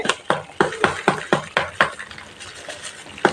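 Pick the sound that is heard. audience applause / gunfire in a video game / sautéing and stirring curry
sautéing and stirring curry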